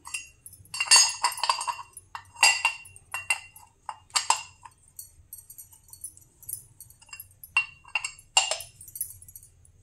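An antique brass lime box (chunnambu dabba) clinks and taps as it is handled up close, in irregular bursts of bright metallic knocks separated by short pauses, with no talking.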